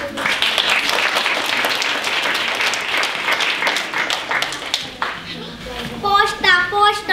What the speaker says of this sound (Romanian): așa ca să ne aplaudați.